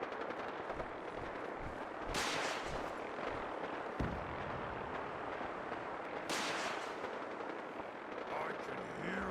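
Distant gunfire and heavy explosive bursts in the video game Fallout 4 as a vertibird is shot down, a few loud booms standing out over a steady rumbling battle background.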